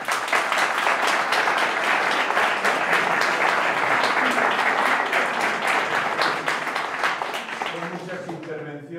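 A political debate audience claps loudly and steadily for several seconds before the applause thins out and a speaking voice emerges at the end.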